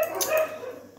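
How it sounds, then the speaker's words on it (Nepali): Pet dogs bark indoors in a short, close, fairly loud burst of a couple of barks with no talking. "उफ कति डिस्टर्ब गर्छ मेरो कुकुरहरू"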